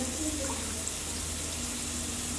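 A steady, even rush of water pouring continuously into a cooking pot of mutton biryani at close range, with no voices.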